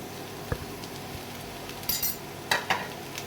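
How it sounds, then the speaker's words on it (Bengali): Potatoes with chopped onion fry in a pan for bitter gourd fry, a soft sizzle under a few brief stirring scrapes and light utensil clinks against the pan. "ভালো করে আমি নেড়ে চেড়ে নেবো।"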